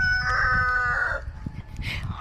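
A hen on a farm pen lets out a loud, close series of clucks and squawking calls, harmonic and continuous for about a second, then quieter intermittent clucks with a brief sharp cry near the end; no talking.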